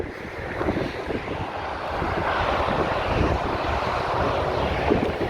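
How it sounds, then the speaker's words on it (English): Steady, continuous roar of motorway traffic from below while crossing over the road on foot, a broad rushing wash that stays loud and unbroken throughout. "I have to go over the motorway."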